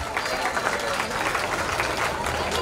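A crowd applauding steadily, a dense wash of many hands clapping at even loudness throughout the short stretch.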